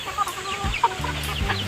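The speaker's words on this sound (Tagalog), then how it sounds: "Malalaki na yung mga tandang, oh." Backyard roosters and hens cluck in short bursts, close and moderately loud, with a few sharper calls over a low background.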